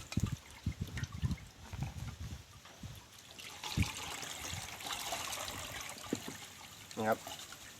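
Liquid from crabs, squeezed out while making nam poo, trickles and dribbles in short wet bursts, with someone talking intermittently over it.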